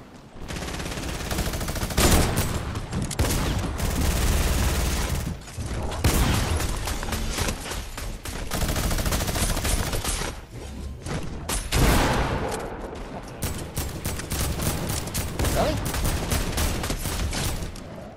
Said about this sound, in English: Oh cool, I shot a moving target.